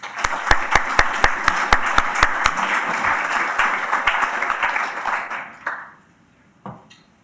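Audience applause welcoming Professor Biswas to speak about academic citizenship and universities: a steady wash of many hands clapping, loud and sustained, with a few sharper individual claps up front, fading out after about five seconds into near silence.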